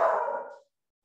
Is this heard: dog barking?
yes